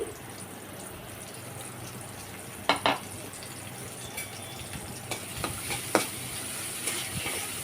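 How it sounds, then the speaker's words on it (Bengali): Chopped onion and green chili fry in hot oil in a pan for a ridge gourd dish, making a quiet, steady sizzle with a few sharp stirring clicks and scrapes, and no talking. "পেঁয়াজ এবং কাঁচামরিচটাকে তেলের উপরে ভেজে নিচ্ছি"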